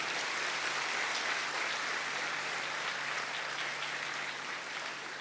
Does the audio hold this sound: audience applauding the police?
yes